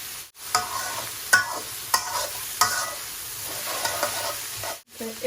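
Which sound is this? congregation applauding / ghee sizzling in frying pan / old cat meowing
ghee sizzling in frying pan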